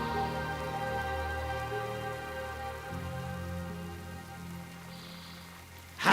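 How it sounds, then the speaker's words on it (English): Steady night rain falls in the World of Warcraft game world, a continuous soft patter with a low drone of ambient game music beneath it and a brief sharper noise at the very end. "And I show up in the middle of the night when it's raining."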